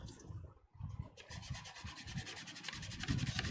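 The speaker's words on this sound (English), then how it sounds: "Just a little sanding in that area." A Shoretrooper costume armor part is sanded by hand in a series of quick, close, rhythmic rubbing strokes that get more regular and slightly louder toward the end, with no talk.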